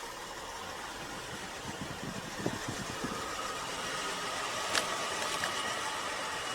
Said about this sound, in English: Let it idle for around 10-15 minutes and shut her off